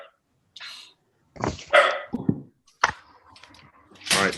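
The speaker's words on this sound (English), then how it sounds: "Trying to make my dog stop barking." A dog barks in short bursts indoors during an online public meeting, loud and close, with brief human voices interleaved between the barks.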